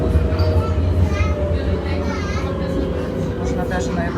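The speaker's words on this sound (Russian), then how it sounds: "В кои-то веки такая экскурсия на трамвае." Tram ride through Nuremberg, with a steady rumble of the rail car and wheels on the track and some squealing tones above, as passengers and children talk over it.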